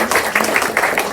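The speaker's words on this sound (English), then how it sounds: "So if I could get a round of applause." A round of applause from the audience at a Kansas state representative's town hall, a short burst of clapping from a modest crowd, close and fairly loud.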